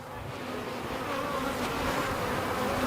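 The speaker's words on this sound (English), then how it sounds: "Those are male bees. Those are the drones." Honeybees and drones buzzing at an open hive during an inspection, a dense continuous hum of many wings, loud and close, steady throughout without talk.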